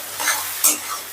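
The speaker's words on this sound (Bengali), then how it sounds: "এবার লঙ্কাটাকেও একটু নাড়াচাড়া করে ভেজে নেব।" Chopped green chillies get stirred and fried in a pan, giving a soft, brief sizzle with two scraping swishes of the spoon, close and fairly quiet.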